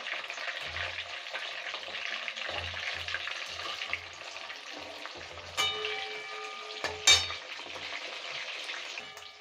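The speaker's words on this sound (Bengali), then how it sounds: "যেগুলো ভাজা আছে সেগুলো ঠান্ডা হয়ে গেছে, এবার ওগুলো ভেজে নেবো।" Village-style chicken 65 frying in oil, a steady close sizzle and hiss running throughout, with a few sharp utensil clinks near the end.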